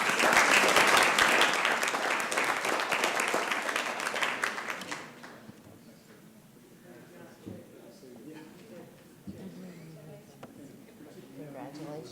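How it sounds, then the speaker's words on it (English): Applause at a city council meeting, loud and dense at first, then thinning out over several seconds into a quiet room with light murmuring and scattered sounds. "Let's give him another round of applause, folks."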